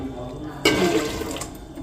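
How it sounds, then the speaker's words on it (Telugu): Water is poured from a glass into a kitchen mixer jar during tomato puree preparation, a short splashing gush that begins abruptly and trails off, fairly close. "ఇప్పుడు ఆ మిక్సీ జార్లోనే కొంచెం నీళ్ళు వేసి"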